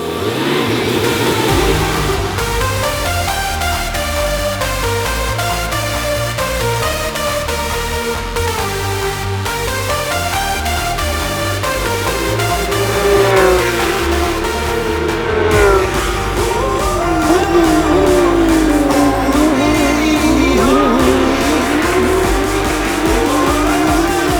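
LMP2 and GT race cars at the Spa FIA WEC weekend, loud engines revving and roaring past one after another with rising and falling pitch sweeps, continuous and close for the whole stretch, no talk.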